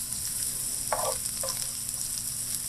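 Chopped onion sizzling in hot oil in a pan for beef chili, a steady close hiss with two brief scraping stirs partway through.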